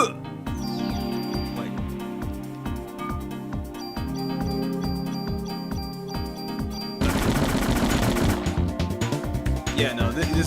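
Rapid automatic fire from a weapon in a video game, loud and steady throughout, with the rate picking up into a denser burst near the end over game music.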